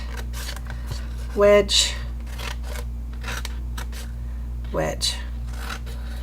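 Scissors snip through paper for a bath bomb box, two crisp cuts a few seconds apart, close and clear, while someone talks quietly between them.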